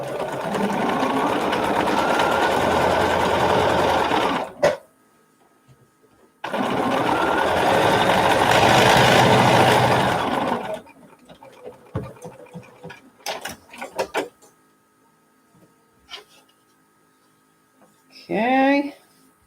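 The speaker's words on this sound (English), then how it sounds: "And we're going to sew them together." A sewing machine stitches seams together in two sustained whirring runs of about five seconds each, close and steady, followed by quiet handling clicks and a brief spoken voice near the end.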